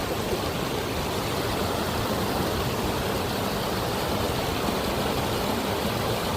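Steady broadband rush of river water flowing down from the mountains into the sea in the Seychelles, continuous and fairly loud with no pauses.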